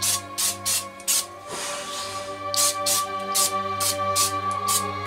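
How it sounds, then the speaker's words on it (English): Several short sprays of cooking oil hiss in quick bursts, a pause, then another run of rapid spritzes over a steady low hum. "Spray the top."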